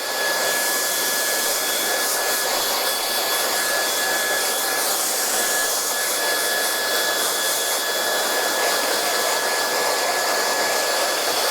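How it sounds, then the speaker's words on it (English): A hair dryer blows continuously at close range, a steady airy roar with a high whine running through it, with no pauses. "Move the hairdryer out of the way"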